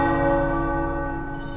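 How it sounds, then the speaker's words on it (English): Tower bells ringing in the video game Marvel's Midnight Suns, a rich sustained metallic peal with long humming overtones, loud and close, slowly fading with no talk. "The tower bells are ringing."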